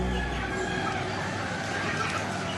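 Chickens cluck and a rooster crows on a farm, a dense, continuous barnyard chorus at moderate loudness.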